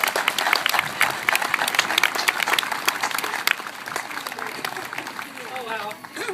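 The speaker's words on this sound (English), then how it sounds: "Let's give a round of applause for my BFF" Audience applause at a Relay for Life event as the speaker's best friend is introduced, dense and steady clapping close by, with cheers and voices mixed in throughout.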